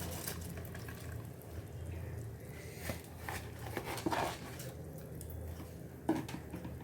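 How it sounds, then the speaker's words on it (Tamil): A pot of water boils hard for cooking basmati rice for prawn biryani, giving a steady bubbling hiss with a few soft clinks and splashes. "தண்ணி நல்லா கொதிச்சிட்ருக்குது."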